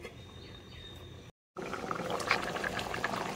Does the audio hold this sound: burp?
no